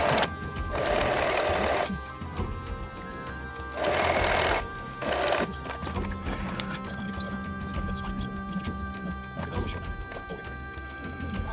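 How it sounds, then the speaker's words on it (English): A sewing machine stitches the seams of a custom LARP pouch in short, loud, whirring bursts, with quieter workshop handling sounds between runs. "I sewed way more than I needed to"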